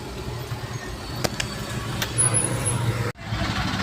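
Road traffic heard from inside a vehicle stuck in a long jam on a hot day, a steady low engine and road rumble with a few sharp knocks and a brief high hiss, ending in a sudden dropout, with no voices.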